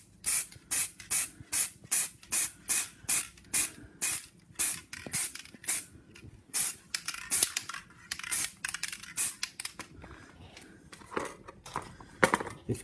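Black spray paint goes onto a magazine in a dusting technique as a rapid series of short, sharp aerosol hisses. The bursts are evenly spaced at first and grow shorter and more irregular toward the end.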